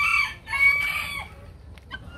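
Chickens on a farm where hens are being set to brood eggs, with a short close crow and clucking calls that fade into softer scattered clucks.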